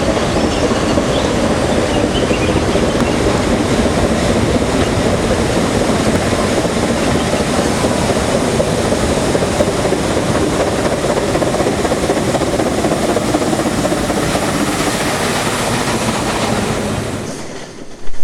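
A Nilgiri rack railway train on a steep mountain line works hard with a loud, continuous rolling roar and clatter of wheels, then cuts off abruptly near the end.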